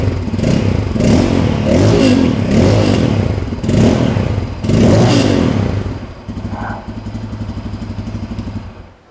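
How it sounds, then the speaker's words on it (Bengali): A Bajaj Pulsar N250 motorcycle with a dual-barrel exhaust revs loud and close in several deep, bassy bursts, then settles into a rough idle. "তো এটাতে কিন্তু এবার ডুয়েল ব্যারেল এক্সস্ট ইউজ করা হয়েছে।"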